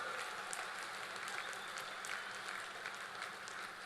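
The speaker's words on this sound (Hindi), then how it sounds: "एक बार फिर अभिनंदन करिए तालियों के साथ, पूरी ताकत के साथ।" Rally crowd applause at a political Vijay Sankalp rally in Durg, Chhattisgarh, a steady wash of distant clapping from a large crowd, faint and continuous throughout.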